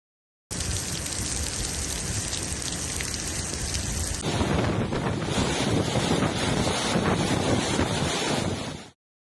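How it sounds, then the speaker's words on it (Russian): Powerful squall over southeast Moscow region with heavy downpour and gusting wind, a dense, loud continuous roar of rain and wind buffeting that swells midway; no distinct thunder stands out. "накрыл мощный шквал, сопровождавшийся сильными ливнями, грозами и порывистым ветром"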